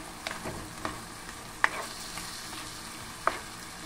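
Shrimp and tau ngun cook in a pan, giving a soft, steady sizzle with a few sharp utensil clinks against the metal as the mix is stirred.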